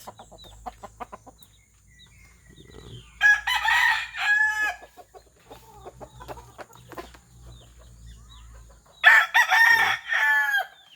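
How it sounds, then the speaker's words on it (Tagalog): Roosters crow loudly twice, several seconds apart, with chickens clucking softly between the calls. "Gutom na itong mga manok ko"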